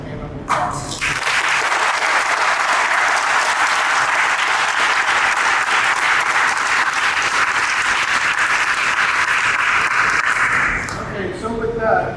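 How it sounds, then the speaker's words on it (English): Dense, steady applause from an audience at a fire rescue cadet ceremony fills about ten seconds at full loudness before tapering off as a voice resumes at the end. "I'd like to give them a hand of applause"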